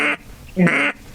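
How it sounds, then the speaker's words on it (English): Two raspy, harsh quacks blown on a duck call by voice, short and close with a brief gap between them, the second longer and buzzier than the first. "because then you turn into quacks that sound like this."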